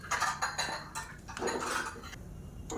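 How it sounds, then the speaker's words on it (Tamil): Spoon stirring a sweet pongal mixture of rice flakes in a pot, with clinks and scrapes against the metal in a quick irregular rhythm, close and moderately quiet, with no voices. "இப்போ நல்லா கலந்து விட்டுட்டு கொதிக்கட்டும்."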